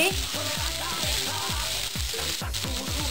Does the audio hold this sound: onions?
yes